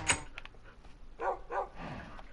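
Tamed dogs in the Minecraft video game give a few short, separate barks, one early and a pair later, fairly faint with gaps of quiet between them.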